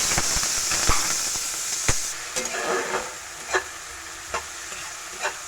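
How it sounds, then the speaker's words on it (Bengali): Chopped onion, garlic and green chili fry in oil left from frying fish, making a continuous close hiss and sizzle with a few clicking scrapes of a spoon against the pan. "হালকা করে একটু ভেজে নিচ্ছি"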